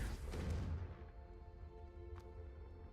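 Confringo explosion spell in Hogwarts Legacy, a loud booming blast at the start that rolls off into a fading rumble and ringing tail, with a faint sharp tick later on.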